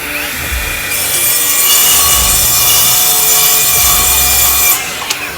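A Milwaukee M18 FUEL 7-1/4 inch cordless circular saw cuts through triple-stacked OSB sheets with a dust extractor running, giving one loud, steady, close-up rasping cut of about four seconds that stops abruptly.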